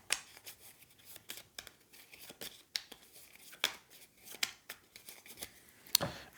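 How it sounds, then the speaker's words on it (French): A deck of cards for the game Shards of Infinity is shuffled in a quiet room, giving a series of soft, irregular papery snaps and flicks, fairly close and alone. "mélanger mes cartes"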